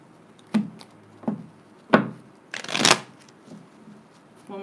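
Tarot cards being shuffled by hand, a handful of separate soft riffling bursts spaced about a second apart, one longer crisp riffle near the middle, close and quiet with no voices.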